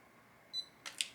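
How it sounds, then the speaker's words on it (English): A short, high electronic beep from an at-home laser hair removal device powering on, then a brief click-like burst, all quiet and close with little else around. "you hear a beep, which means the device is now turned on"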